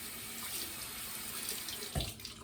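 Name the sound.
water running from a tap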